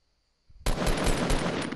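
Assault rifle fire in a video game: a dense, loud automatic burst breaks sharply out of near silence and continues with rapid, even shots until the end.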